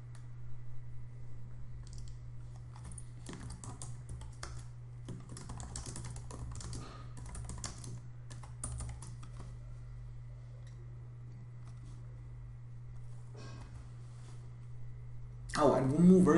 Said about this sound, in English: Here is where you can type the text.